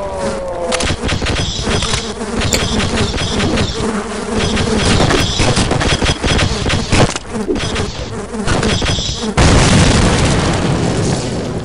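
A grenade blast in the video game Half-Life bursts out amid loud, dense game noise, with buzzing insect-like effects and repeated booming hits running through the whole stretch.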